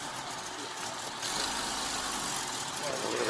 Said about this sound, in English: we've got a few cars coming here